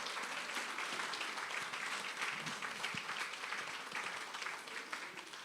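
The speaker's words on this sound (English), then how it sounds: "Massive round of applause for Judy." Quiet but steady applause from an audience for Judy, a dense wash of clapping holding evenly for several seconds.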